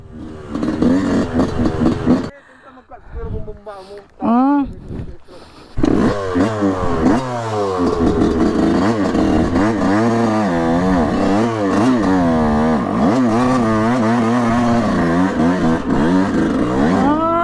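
Yamaha YZ 125 two-stroke dirt bike ridden on a trail, loud buzzing engine revving and bogging up and down close by, steadily droning through most of the stretch with pitch swings.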